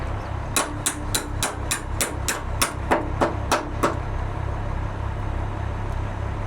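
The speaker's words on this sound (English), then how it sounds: "using the small hammer when I had a bigger hammer right there" Sharp metallic strikes from a small hammer working on a truck, about a dozen quick, evenly spaced blows close by over a low steady hum, then stopping.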